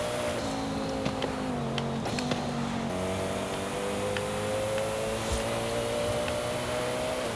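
The Koenigsegg One:1 engine in Forza Horizon 5 drones steadily, its pitch rising and falling through gear changes, with faint ticks and clicks over a constant hiss.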